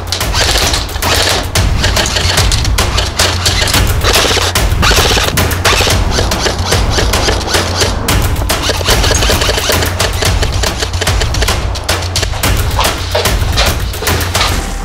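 HK M27 IAR airsoft rifle firing on an outdoor field, a steady run of rapid mechanical shots and clattering bursts that continue loudly and almost without pause for the whole stretch.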